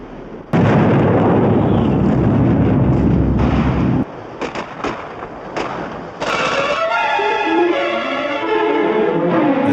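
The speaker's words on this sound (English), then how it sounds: "Gunfire echoes across the Pacific" Loud heavy World War II gunfire and explosive blasts with booming rumble across the Pacific, several bursts in succession, followed by a tonal swelling sound as the barrage continues.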